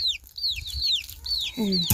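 Chickens and roosters on a Thai farm give a run of bright, repeated clucks and squawks, fairly close, ending with a lower, fuller call.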